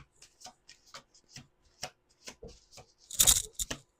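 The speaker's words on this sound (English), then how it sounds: "2 more shuffles." A deck of playing cards being shuffled at close range, quiet dry flicks and riffles in short bursts with a louder riffle near the end, no talking.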